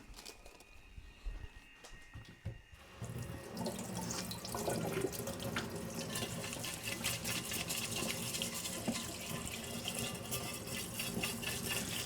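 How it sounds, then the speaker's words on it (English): A kitchen tap opens after a quiet start and runs steadily, water splashing and hissing over a plate being washed in the sink, close and continuous to the end. "now I have to wash my plate"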